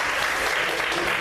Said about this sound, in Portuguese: Você pode aplaudir e exaltar ao Senhor nessa noite.